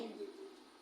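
A bird calls close by with a brief, low cooing note that fades quickly, heard on its own.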